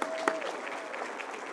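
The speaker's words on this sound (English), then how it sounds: "So let's give them a nice round of applause." Audience applause at the 2023 LBJ Museum benefit gala, a steady spread of many hands clapping throughout, moderately loud, with one sharp clap near the start and a faint tone briefly under it.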